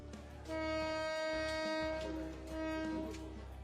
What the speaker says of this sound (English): That loud whistle warns them that the train is on the move